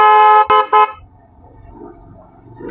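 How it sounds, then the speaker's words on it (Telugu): A motorcycle horn on a long road ride blares three times in quick succession, loud and close: one long honk, then two short toots, followed by quieter engine and road noise. "ఇలా హార్న్ బ్లో చేస్తూ ఉండాలి"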